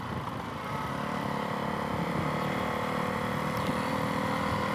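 Suzuki DR-Z E model stroker big bore motorcycle with wide ratio gears and a Barker's exhaust, ridden in third gear; a steady, loud engine drone holds throughout with no voices.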